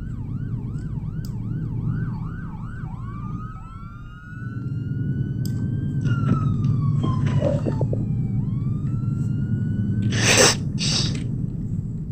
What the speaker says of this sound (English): Oh, I hear a siren.